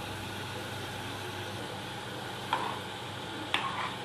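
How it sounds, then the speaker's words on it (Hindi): Carrots and chopped onions frying in a pan for street-style veg momo stuffing give a steady, soft sizzle throughout, broken by two brief stirring scrapes near the end. "तो गाजर को भी हम 1 मिनट पकाएंगे।"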